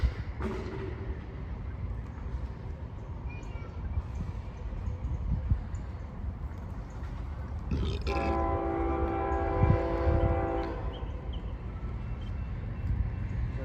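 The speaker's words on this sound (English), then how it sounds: "Here comes I-144, the Sunday train from Tampa, Florida, to Jacksonville Duval Yard in Florida" A CSX freight train in Plant City, Florida rumbles steadily nearby, then its horn blares loudly for a few seconds over the rolling rail noise.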